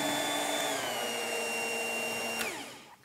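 Stand mixer kneading brioche dough in a home kitchen, a steady motor whir with a fixed whine that winds down and stops near the end.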